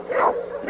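A single short dog bark rings out close by, a brief yelping woof followed by a slight trailing whine.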